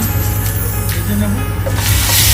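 Chicken pieces coated in salt and turmeric frying in hot oil, a loud close spray-like hiss and crackle that swells near the end, with no speech.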